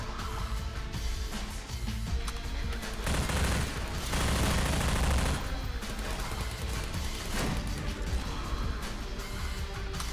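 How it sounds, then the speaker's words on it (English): Explosions and gunfire crash through a Half-Life 2 firefight as grenades go off, a dense, loud, sustained barrage of blasts and shots with no talking over it. "I'm wasting my grenades."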